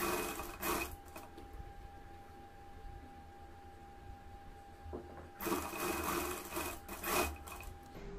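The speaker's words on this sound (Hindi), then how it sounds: "और अब हम पाइपिंग के बिल्कुल किनारे से सिलाई लगाना शुरू करेंगे।" A sewing machine stitches piping along a neckline in bursts of rapid whirring. Its close, buzzing runs stop for a quiet pause of a few seconds, then start again.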